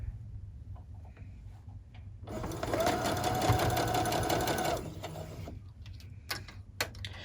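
A sewing machine stitches a fabric pouch with a vinyl window, running steadily for about two and a half seconds with a rapid mechanical whir. Quieter handling and fabric noises come before and after the run.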